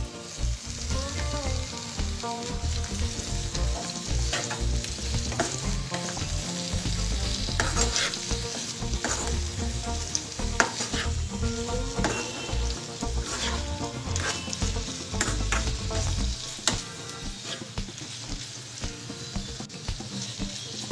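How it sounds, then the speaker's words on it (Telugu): Boiled ivy gourd pieces frying in green chili paste in a pan, a loud continuous sizzle and crackle with steady scraping of a stirring spoon throughout. "పచ్చిమిర్చి పేస్ట్ ఫ్రై అయిన తర్వాత ముందుగా ఉడికించిన దొండకాయ ముక్కలు వేసుకోవాలి."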